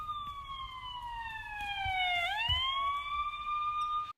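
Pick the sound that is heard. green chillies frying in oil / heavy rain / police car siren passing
police car siren passing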